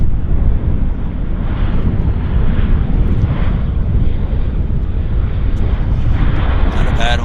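A WestJet Encore Q400 turboprop lands at Vancouver airport with a loud, continuous roar mixed with wind rush, close and steady throughout, under some talk.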